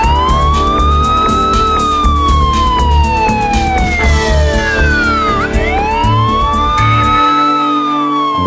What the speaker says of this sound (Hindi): अब 108 डायल करते ही एम्बुलेंस समय पर पहुंच जाती है